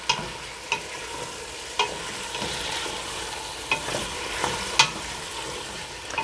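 Food for Tanzanian coconut chicken pilau being stirred as it fries in a pot over moderate heat, a steady soft sizzle broken by intermittent scraping clicks of the spoon against the pot.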